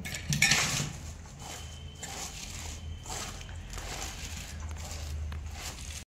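Shredded cabbage being mixed by hand with spices and cornflour in a bowl for cabbage Manchurian, a steady soft wet squishing and rustling with a louder burst of mixing at the start.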